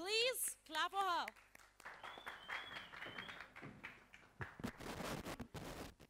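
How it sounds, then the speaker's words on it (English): An audience at a short-film screening applauds the director, a scattered round of clapping from a crowd rising after a brief stretch of speech and continuing loosely to the end. "Please clap for her"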